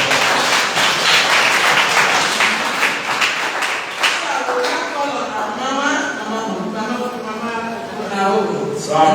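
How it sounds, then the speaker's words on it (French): A church congregation at a Mother's Day celebration service applauds with loud, dense clapping that thins out midway, while voices talk and sing over the remaining claps. "Donc applaudissons pour le moment."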